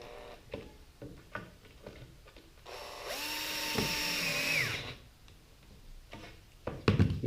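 A power drill drives 1.25-inch Kreg screws into an entertainment center cabinet: one steady, whining burst of about two seconds, with the motor pitch dipping as the screw seats, framed by scattered knocks and handling clatter.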